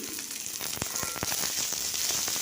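Chopped onions fry in two spoons of hot mustard oil with cumin seeds, giving a steady close sizzle with a few sharp crackles and pops, no talking.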